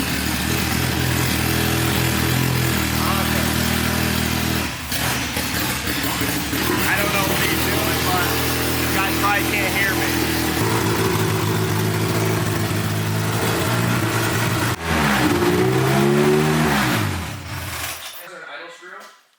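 A Honda K-series engine fires up and runs, a loud steady idle rising and falling as it revs, with people talking over it and the engine cutting off at the end.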